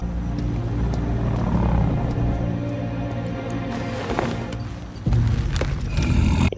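Horse-like snail creatures from Ant-Man and the Wasp: Quantumania neigh and whinny loudly over a dense, rumbling film soundtrack, with clopping steps and a swell of louder mixed sound near the end.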